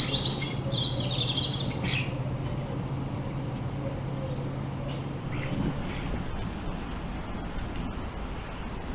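Sparrows and other small birds at a garden feeder give a short flurry of chirps near the start, then fall mostly quiet over a steady low background hum, with faint scattered ticks later.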